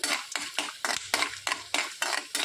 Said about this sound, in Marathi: चांगली रोस्ट करून घ्यायची आहे शेंगदाण्याबरोबरच भाजून घ्यायची आहे